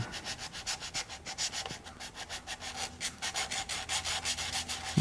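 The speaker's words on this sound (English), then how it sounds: "Then I've got some 180 sandpaper. I'm just going to touch it up a bit to remove any carbon that might be there." Sanding with 180-grit sandpaper to clear carbon on a part from a John Deere 755 tractor: steady rhythmic back-and-forth rubbing strokes, close and fairly quiet, about a dozen passes with no talk.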